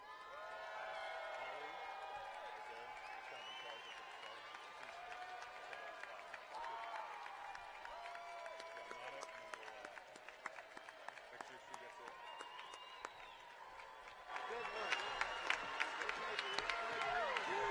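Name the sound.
audience applauding graduates at commencement ceremony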